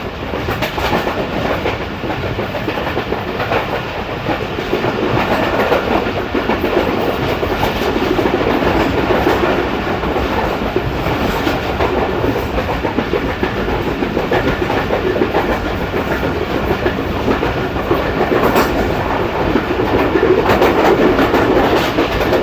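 A train rumbles steadily along the rails for the whole stretch, a continuous loud clatter and roar with no voices.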